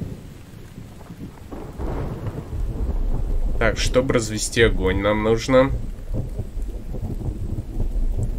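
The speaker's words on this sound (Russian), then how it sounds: "Вот он, дождь пошел." Rain pours steadily with rumbling thunder in the survival video game The Infected, a continuous storm wash running beneath someone talking throughout.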